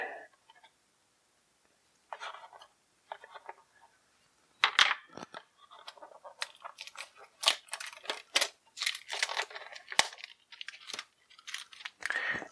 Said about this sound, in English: we're just going to cut the plastic off here